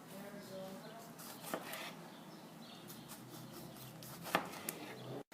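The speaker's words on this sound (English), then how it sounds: "Then after washing the tomatoes, we cut them into thin slices." Kitchen knife slicing washed tomatoes into thin slices, with a few faint, soft cuts against a board spaced irregularly over quiet room background.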